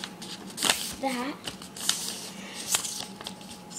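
Sheets of thin, low-quality paper being folded and creased by hand, giving repeated crisp rustles and crinkles in short bursts under a person's talking.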